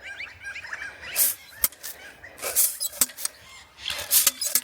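Birds call outdoors near a pond with ducks, sending out a quick run of chattering chirps and then sharp scratchy bursts, moderately close, mixed with rustling and clattering noise.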